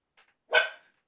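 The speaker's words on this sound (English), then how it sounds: "Sorry, that's the dog." A single sharp dog bark rings out indoors, preceded by a faint short yip, close and fairly loud against an otherwise silent background.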